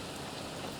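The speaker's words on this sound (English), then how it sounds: "since it is raining quite heavily" Heavy rain falls in a farming video game, a dense, steady hiss of downpour with no pauses, heard briefly and alone.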